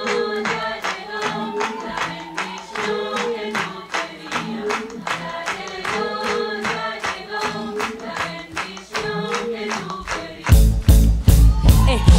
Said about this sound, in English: You guys gotta clap your hands with me.